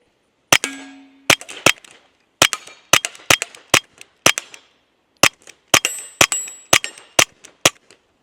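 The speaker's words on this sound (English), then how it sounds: "So let's go ahead and take some shots with this one." Smith and Wesson M&P 22X pistol fired outdoors in a string of about eighteen sharp, close cracks, spaced in uneven pairs and groups, each with a brief ringing tail.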